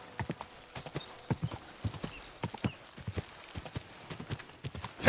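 Horse hooves clip-clop in an uneven galloping rhythm in the video game Kingdom Come Deliverance 2, clear and fairly close, with a brief whinny near the end.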